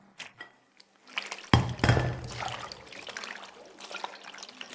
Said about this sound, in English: now wash these beans we prepped